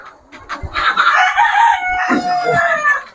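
Several free-range country chickens cluck and chatter close by inside a farm shed, a steady run of overlapping calls with no talking.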